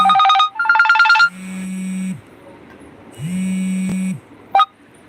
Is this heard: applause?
no